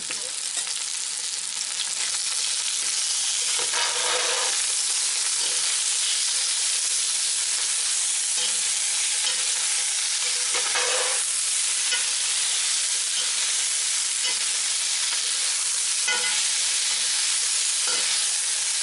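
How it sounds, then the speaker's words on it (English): Onions sautéing in a pan with hog fries nearby, a dense, continuous loud sizzle and hiss close up, with occasional stirring surges and no talk. "And now we can add onions. And proceed to saute."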